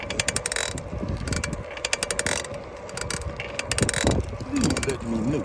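A Specialized Sirrus X4.0 bicycle drivetrain makes rapid, rhythmic mechanical clicking and ticking while pedalling, a fault thought to come from the crank or chain. The clicks repeat in uneven bursts, close and fairly loud.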